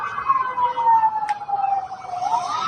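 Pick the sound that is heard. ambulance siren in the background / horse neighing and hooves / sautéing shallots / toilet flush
ambulance siren in the background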